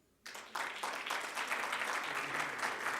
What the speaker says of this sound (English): I ask you to clap for him for me.